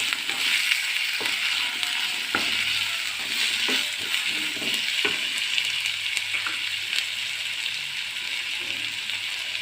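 Okra lightly sautéing in a pan for curry gives a steady, close sizzle, broken by a few soft scraping stirs. No one talks.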